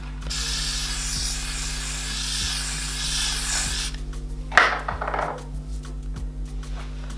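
A spray can hisses in a steady burst for about four seconds during a lace front wig install, then stops, followed by a sharp click and some rustling handling noise.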